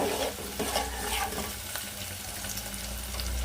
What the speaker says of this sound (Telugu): ఉల్లిగడ్డలు పచ్చిమిర్చి వేసుకొని మొత్తం ఫ్రై అంత వరకు అయితే కలిపేసుకున్నాం.